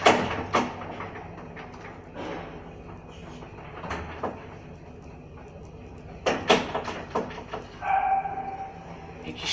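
A dog barks in short, scattered bursts at a residential housing block in Poznań, mixed with door-like thumps and knocks nearby. The sounds are moderately close and there is no clear speech.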